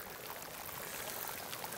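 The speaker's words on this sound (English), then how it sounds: "Oh, here's where it's actually bubbling out of the ground." Hot spring water at Vulcan Hot Springs in Idaho bubbles up out of the ground with a soft, steady pouring trickle, faint and close, with no voices over it.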